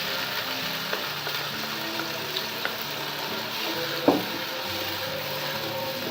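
Tomato paste and green chili paste fry in a pan, giving a steady, close sizzle throughout, with occasional light clicks and one louder scrape of a spoon.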